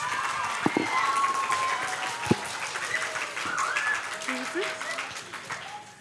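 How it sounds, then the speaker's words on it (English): Audience applause for a contestant taking the stage at a school English program exhibition day, a dense steady round of clapping from a crowd with faint voices mixed in, lasting several seconds. "Please give her a round of applause."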